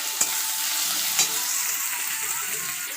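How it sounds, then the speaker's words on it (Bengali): Chopped onions sizzle steadily in a hot pan as they fry toward browning, a continuous close crackling hiss with two brief stirring clatters and no talk. "পেঁয়াজটা লাল লাল করে ভাজতে হবে।"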